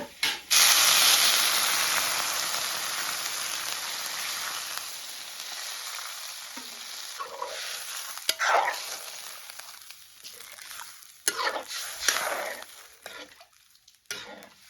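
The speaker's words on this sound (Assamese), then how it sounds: "কবিখিনি ধুনীয়াকৈ একদম ভালকৈ ভাজি ল'লোঁ এতিয়া ইয়াতে দি দিম পানী" Water poured into a hot pan of fried cauliflower sets off a loud, broad sizzle that slowly dies down, followed by several short, close scraping stirs.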